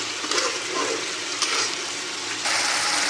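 Tomato chutney boils in a pan with a steady, dense sizzling and bubbling that stays close and fairly loud for the whole stretch, with no voices.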